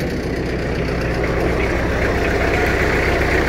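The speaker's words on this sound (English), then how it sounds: "It's a Kubota diesel motor in it" A 2011 Brush Bandit 90XP chipper's Kubota diesel engine, rated around 84 horsepower, idles loudly and steadily up close, with a continuous low rumble and no break.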